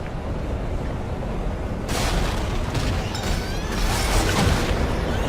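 Explosion in the video game Dead Space 3: a sudden loud blast bursts in about two seconds in, then a sustained roaring, crackling rumble with scattered pops and creaks continues over a steady low game background.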